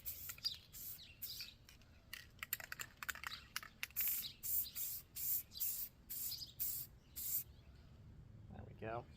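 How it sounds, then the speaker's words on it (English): Spray paint can hissing onto a prop weapon being built, a series of short bursts in an uneven rhythm, close and moderately loud, with quiet handling sounds between them. "I haven't spray painted in a while, and you can kind of tell"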